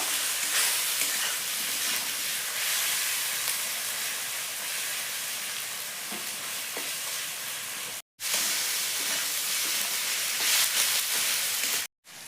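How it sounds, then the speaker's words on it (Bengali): Spices frying hard in a pan for chana dal with cabbage, a dense steady sizzle with hiss, loud and close, broken by two brief gaps near the end; no talking. "ভালো করে মশলাটা কষাবো"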